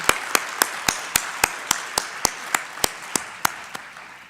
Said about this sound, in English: Let's clap for our Langmuir speaker.